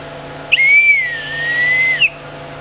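A single sustained brass whistle, blown without its ball, sounds for about a second and a half, a steady airy tone with no trill or warble, close and fairly loud.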